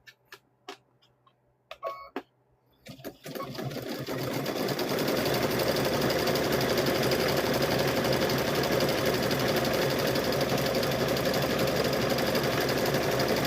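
A sewing machine stitches fabric-wrapped rope into a bowl, starting after a few scattered clicks and knocks, then running in a loud, steady, fast mechanical whir that holds to the end.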